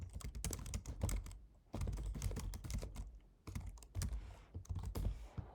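Code being typed on a computer keyboard for a molecular dynamics simulation in NetLogo: rapid, close clicking keystrokes in three bursts separated by short pauses, with no voices.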